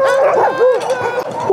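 Excited sled dogs in a kennel bark and yip in quick overlapping bursts, loud and close, with whining mixed in.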